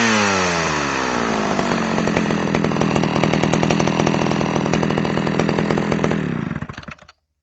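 A Homelite Super XL chainsaw runs loud and close after a cold start, its engine revving up and holding a steady buzzing roar before cutting off abruptly near the end.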